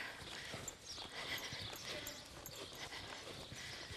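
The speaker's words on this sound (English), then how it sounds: "This is kind of the trot I would love from a horse when riding with this activity, to have a working trot like this." A sensitive young mare trots, her hoof beats coming as soft, rhythmic clip-clop thuds over a faint, noisy background.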